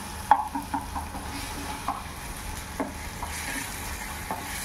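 Tomatoes sizzle and fry in a pan, with intermittent stirring clinks and scrapes over a steady hiss of hot oil, close and moderately quiet.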